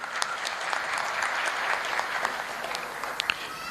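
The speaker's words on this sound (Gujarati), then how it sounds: "એટલે તમે બધા તમારા પોતાના માટે પણ તાળીઓ વગાડો." An audience at a school lecture hall breaks into steady applause, many hands clapping evenly throughout at moderate volume, with no voices over it.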